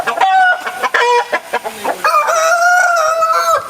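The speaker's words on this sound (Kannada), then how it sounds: "ಒಳ್ಳೊಳ್ಳೆ ಬ್ರೀಡ್ನ ಕೋಳಿಗಳನ್ನು ಸಾಕಿದ್ದಾರೆ" Chickens and roosters of good breeds at a home flock, clucking and crowing up close and loud, with overlapping calls and a sustained crow running through the second half.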